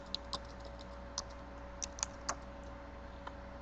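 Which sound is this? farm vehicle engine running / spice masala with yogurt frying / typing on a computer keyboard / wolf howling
typing on a computer keyboard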